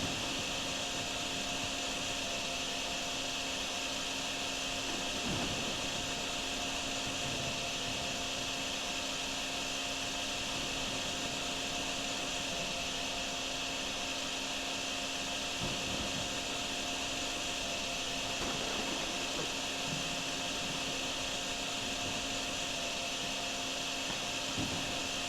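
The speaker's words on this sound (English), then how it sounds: "We'll get it with this vacuum" Wet-dry shop vacuum sucking up flood water, a steady loud motor whine and airflow roar droning without pause, with faint gurgling and slurping of water drawn into the hose.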